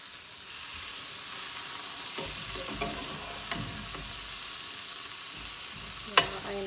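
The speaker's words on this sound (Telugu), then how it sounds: "చూద్దామండి, ఇటు పక్క కూడా ఫ్రై అయిందేమో." Brinjal slices fry on a hot tawa with a soft, steady sizzle, broken by a few light scrapes and taps of a spatula and one sharp knock near the end, close and without talk.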